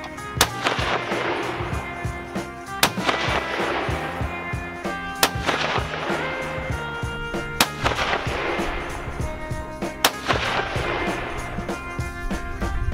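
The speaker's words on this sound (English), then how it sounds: "So I'm gonna go ahead and do 5 shots, top target, upper left-hand corner." Five sharp rifle shots from a Howa 1500 chambered in 6.5 Creedmoor, fired while sighting in at a range, spaced a couple of seconds apart, each loud crack trailing a long ringing decay, with no talk.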